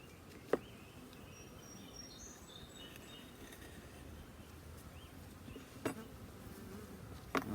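Honey bees around a top bar hive keep up a faint, steady buzz, with a few soft knocks and clicks against the wood.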